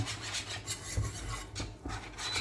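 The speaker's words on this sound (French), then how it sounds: "On mélange bien le caramel, attention." Butter caramel is stirred in a pan with steady scraping and rasping strokes across the bottom, close and continuous, with no talking.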